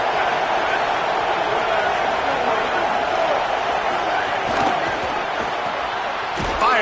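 A stadium crowd in College Football 27, at an LSU dynasty game against FCS Northwest, keeps up a steady, loud, roaring wash of noise throughout, with a sharp thud near the end.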